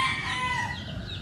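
Green-legged chickens on a farm crow and cluck in a brief, steady burst, sounding close and moderately loud with no talking.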